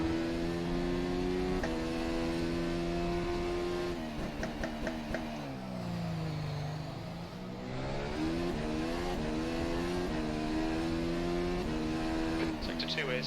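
An F1 2020 race car engine in the rFactor 2 racing game at the Malaysia circuit screams continuously, its pitch climbing and dropping through gear changes and a slower corner, with a voice speaking over it at times.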